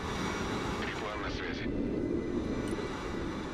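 Aircraft engine drone of an airdrop plane passing overhead in the war game Broken Arrow, a steady broad roar swelling slightly mid-pass, heard under faint talk.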